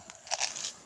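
A cat crunches dry cat food, several quick crisp bites and crackles close to the microphone over a quiet background.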